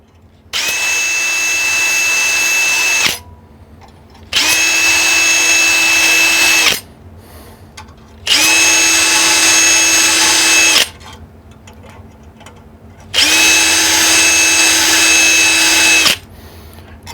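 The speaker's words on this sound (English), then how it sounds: "This is a brass, or pardon me, copper cleaning brush for, like, let's say a 223." Power drill spinning a copper cleaning brush meant for a .223 rifle bore, running in four loud whirring bursts of about two and a half seconds each, separated by short pauses, with no talking.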